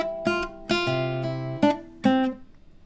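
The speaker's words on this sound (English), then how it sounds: "both these measures are going to start with a pull-off and then have two staccato notes" Classical guitar plays measures from Giuliani's Ecossaise Op. 33 No. 2, with a pull-off followed by short staccato notes in a repeating pattern of four clear, close plucked phrases.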